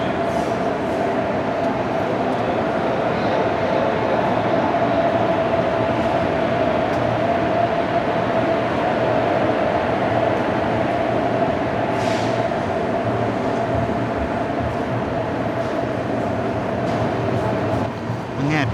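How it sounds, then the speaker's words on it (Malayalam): The Kannur–Coimbatore Express train passing in Kerala, with a continuous rumbling rail roar and a steady tonal hum throughout, heard at moderate distance under some faint background voices. "ഈ കാണുന്നതാണ് കണ്ണൂർ കോയമ്പത്തൂർ എക്സ്പ്രസ്."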